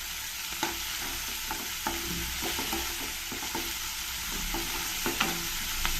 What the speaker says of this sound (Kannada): ಈರುಳ್ಳಿ ಮತ್ತು ಕ್ಯಾಪ್ಸಿಕಮ್ ಆ ಎಣ್ಣೆಯಲ್ಲಿ ಒಂದು ಸ್ವಲ್ಪ ಫ್ರೈ ಆಗಬೇಕು